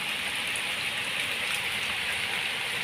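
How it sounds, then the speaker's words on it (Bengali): Heavy rain pours steadily outdoors by a home garden, a dense, even hiss that holds constant and fills the scene with no voices over it. "সকালে ওঠো, এত বৃষ্টি"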